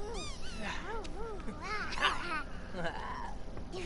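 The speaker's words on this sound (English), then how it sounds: "He's playing with his doggy." A pet dog in The Sims video game, yipping and whimpering in a quick string of short, high, bouncing calls, with a sharper yelp near the middle, heard close and clear over faint background sound.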